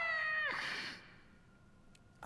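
A kitten meows in the Skyrim video game, a single drawn-out, fairly faint mew that falls off quickly, followed by near silence.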